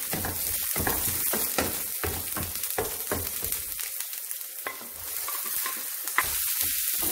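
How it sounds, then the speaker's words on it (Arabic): Onion and pepper fry in vegetable oil in a pan, a steady loud sizzle with crackling bursts and occasional stirring scrapes, close up and continuous throughout. "في المقله غادي ندير واحد شويه ديال الزيت النباتيه، ونشحروا فيها هاد البصله مزيان حتى كتهبط"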